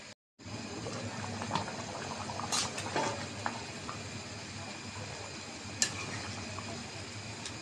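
Beef curry with papaya and potato bubbles steadily under a lid, a continuous close boiling hiss with a few faint clinks and no talk.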